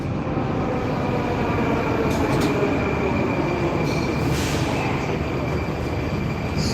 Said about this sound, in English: It's a pretty long train.